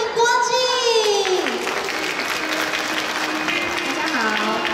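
A crowd at an outdoor Mid-Autumn festival event in Miaoli applauds to welcome a singer, giving steady, continuous clapping with voices and tonal sounds rising over it.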